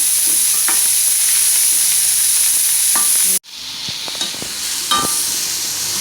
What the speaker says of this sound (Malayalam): സവാള എണ്ണയിലോട്ട് വരട്ടിയ ശേഷം